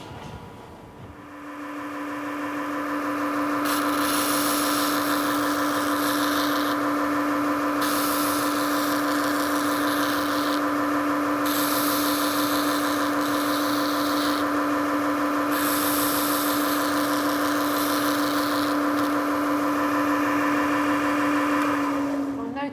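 A band facer trims waste material from the corners of a wooden buzz wire game casing, running as a loud, steady whine with a strong constant tone and rough abrasive grinding that stays on for about twenty seconds.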